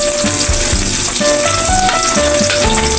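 Garlic and sliced onion sauté in a hot pan, a steady loud sizzle with scraping stir strokes running throughout, no talking.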